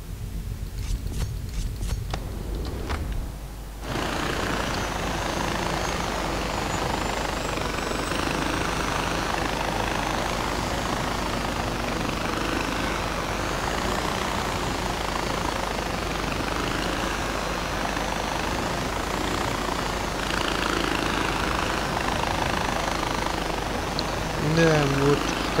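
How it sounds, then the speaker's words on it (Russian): Helicopter in the video game Far Cry 4, a loud, steady rotor and engine drone that kicks in after a few seconds and holds continuously to the end. "вертолет самый быстрый средство передвижения в этом краях"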